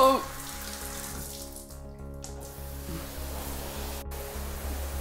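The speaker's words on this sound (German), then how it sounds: "Jetzt beregnen wir den B3 Bag mit der Regendusche eine Minute." Rain shower spraying water onto a B3 rolltop bicycle bag; a steady hissing spray runs throughout over a low constant hum, fairly close and even.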